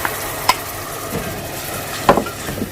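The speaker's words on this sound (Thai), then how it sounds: "พัดรวมกันนะจ๊ะ ให้สีสวยงามลงไป อ่าพัดต่อไปจ้า" Ingredients stir-fried in a pan for Iranian khoresht gheimeh stew, with a low steady sizzle and a couple of sharp utensil scrapes and knocks against the pan, close and clear, no talking.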